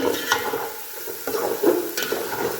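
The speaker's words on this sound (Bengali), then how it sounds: "এখন এই মুরগিগুলো ঢেলে দেবো। দিলাম, এখন নাড়াই ছেড়াই নেব।" Chicken pieces are stirred and fried in a pan, giving a close sizzle with irregular scraping and clinking of the spatula, moderately loud and without talk.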